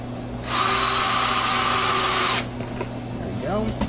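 Power drill driving screws into a screw-in Randell refrigeration door gasket, one loud, steady whine lasting about two seconds, followed by a brief voice at the end.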